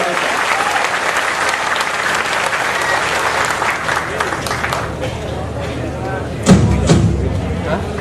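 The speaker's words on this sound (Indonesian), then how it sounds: "Tepuk tangan semua untuk Jiwo Tejo." A large audience applauding Sujiwo Tejo at a live stage event with Kiai Kanjeng, a dense sustained roar of clapping that thins out toward the end, with a few louder thumps and crowd murmur.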